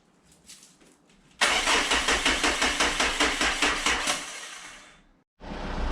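A Renault Megane 2 with the 1.5 dCi diesel engine cranks loudly and closely in a steady rapid rhythm for about three seconds without catching, then stops. A fresh burst of cranking begins right after.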